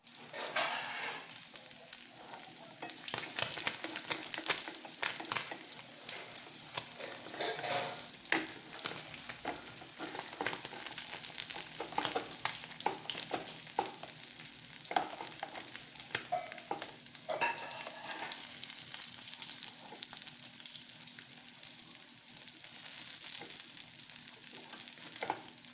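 Fish frying in an old, worn pan while being nudged and moved around, giving a steady close sizzle with scattered scraping and clinking accents throughout, no voices.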